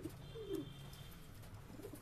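Soft, low cooing from a pair of Kalshira Giribaj high-flying pigeons sitting on eggs at their nest, a couple of brief quiet coos over faint background.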